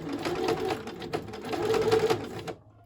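A sewing machine stitches fabric for junk journal clusters in one steady, close, loud mechanical run of rapid needle strokes, then stops abruptly near the end, with no voices over it.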